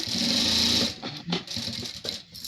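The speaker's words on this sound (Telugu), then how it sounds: "మళ్ళీ దీనిపైన ఫినిషింగ్ స్టిచ్చింగ్ చేసుకోవాలి ఇలా నీట్గా ఇలా సర్దుకుంటూ నీట్గా" A sewing machine runs a finishing stitch along a T-shirt button placket, a close, loud steady whir for about a second, then stopping and restarting in short uneven bursts with fabric handling in between.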